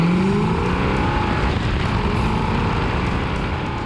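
A classic muscle car with a 440 six-barrel V8 drives steadily, its deep, loud engine rumble continuous and close throughout, with road and wind noise layered over it.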